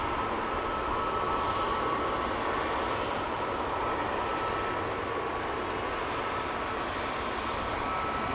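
A jet departing Amsterdam Schiphol Airport during parallel departures roars as a broad, steady engine rumble that holds constant throughout, with no voices.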